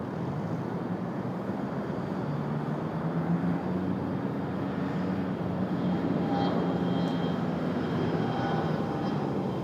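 A CRJ regional jet at Raleigh-Durham International Airport produces a steady, broad engine roar that holds at an even level throughout, distant and moderately quiet, with no talk.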